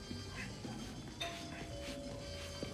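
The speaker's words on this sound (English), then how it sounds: "That doorbell's been broken for years." A doorbell in the video game Marvel's Spider-Man: Miles Morales chimes a short tone in a quiet indoor apartment scene, brief and fairly faint over soft background noise.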